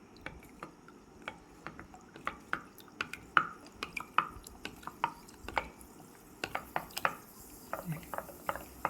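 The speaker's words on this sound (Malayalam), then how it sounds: "നമുക്കിനി ഒന്ന് വെള്ളമയം ഒന്നുമില്ലാത്ത ഒരു തവി വെച്ചിട്ട് ഒന്ന് മിക്സ് ചെയ്യാം." A dry ladle stirs homemade beetroot wine, producing scattered soft knocks and liquid clinks against the container at an irregular rhythm, quiet and close.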